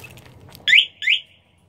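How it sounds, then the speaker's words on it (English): A GY6 scooter's aftermarket alarm gives two short, loud electronic chirps in quick succession, close by, after a brief low rumble. "So now I can hit the alarm"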